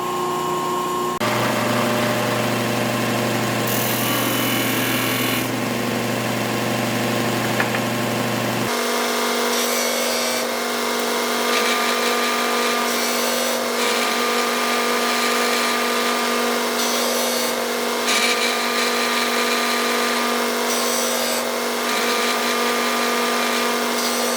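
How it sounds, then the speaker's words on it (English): Disc sander squaring a pen blank down to its brass tube: a loud, steady motor drone with a change in pitch and tone partway through, and gritty sanding texture as the blank is pressed gently against the disc; nobody speaks. "the disc sander. So we want to go again just little bits at a time until you see that brass tube shine."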